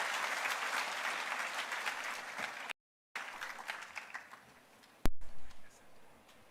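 Audience applause at a Mombasa political gathering for Kenya's Treasury Principal Secretary, Dr. Chris Kiptoo; steady crowd clapping that cuts out abruptly, resumes more faintly, then ends in a few thumps and quieter room noise.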